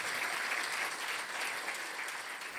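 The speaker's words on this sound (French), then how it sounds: "On peut l'applaudir." Sustained audience applause fills a dinner-conference hall honoring the mayor of Saint-Lin-Laurentides, a dense, steady wash of many hands clapping at moderate distance with no pause.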